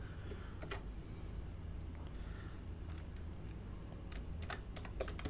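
Quiet, close keyboard typing of Python if-else code, rapid uneven key clicks in short bursts over a faint background hum, no speech.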